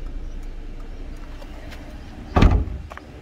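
Door of a Wuling Formo Max pickup slammed shut, heard as a single loud, close thud with a brief rattle after a stretch of quiet background, and no talking over it.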